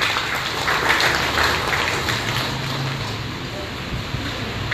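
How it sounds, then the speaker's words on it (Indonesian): Audience applause at an Islamic religious talk by Ustadz Miftah Cool about Hari Raya, a dense continuous wash of clapping that holds steady throughout without voices rising above it. "Tepuk tangan"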